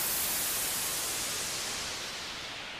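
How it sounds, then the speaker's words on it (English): Pink noise from the Omnisphere synthesizer's noise generator, a steady broadband hiss softer in the top end than white noise, continuous and even for the whole stretch with no other sounds. "So let's slide over to pink noise."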